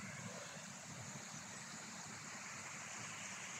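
A small stream flows in a steady, faint, even wash of water, continuous without pauses, with no distinct bird calls standing out.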